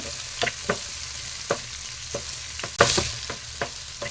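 Chopped onions sautéing in oil in a pan for tomato thokku, with a steady sizzle and intermittent scraping stirs of a spatula, one sharper clatter midway, close up and without voices.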